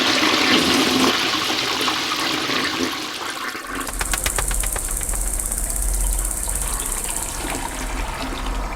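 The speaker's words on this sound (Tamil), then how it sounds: "ஃப்ளஷ்ல ஏதோ ப்ராப்ளம் நினைக்கிறேன்." A household toilet with a suspected flush fault, in a horror film scene, is flushed partway through, a sudden loud gushing rush of water that continues steadily to the end after a quieter ambient opening.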